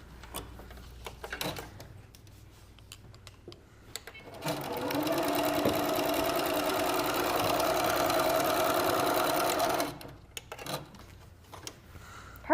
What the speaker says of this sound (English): Angelique is going to sew it for us.